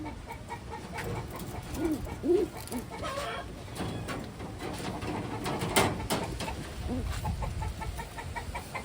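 A female blue bar pigeon coos softly in short, repeated calls close by, over a faint background of other birds.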